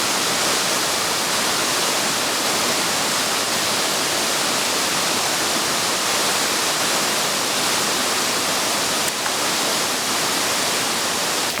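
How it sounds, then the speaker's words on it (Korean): Steady, loud rushing water fills the whole stretch, a dense unbroken roar of a fast mountain stream close by on Cheongnyangsan in autumn, with no voices. "거침없는 물소리를 뒤로하고"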